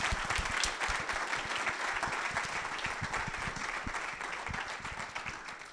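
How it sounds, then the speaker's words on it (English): Steady applause from a crowd at a student innovation pitch event, a dense wash of clapping holding at an even level throughout with no voices. "big applause to sign me up for this"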